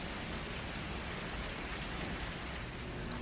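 Rain falls steadily as a soft, even hiss, faint and continuous, with no voices.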